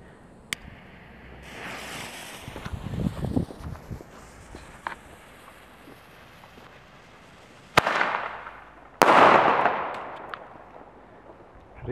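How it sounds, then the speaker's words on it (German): Weco Flashbang firecrackers exploding outdoors, with sharp loud bangs near the start, around the middle and toward the end, each trailing off in a rumbling echo, with wind and crackling between them. "Und weiter geht's mit den Flashbang vom Weco."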